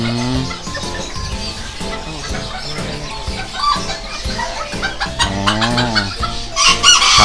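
Bantam chickens cluck and a rooster crows repeatedly, with several birds calling over one another in a busy, close-up coop at a market shop.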